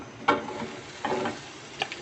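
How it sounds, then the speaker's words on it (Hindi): Carrot, capsicum and green onion frying in olive oil: a soft sizzle broken by a few scraping, clattering stirs, close by. "इसके अंदर मैं थोड़ी सी वेजिटेबल्स फ्राई करूँगी।"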